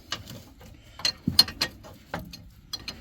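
Ratcheting clicks from a wrench turning the camber adjustment bolt on a car's suspension, a series of close, crisp mechanical ticks in uneven bursts.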